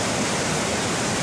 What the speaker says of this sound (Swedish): Kan höra hur vattnet dånar här nere